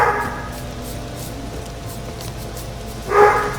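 A distant dog barks twice, once at the start and once near the end, each bark ringing with echo across an outdoor campsite under a steady low background hum.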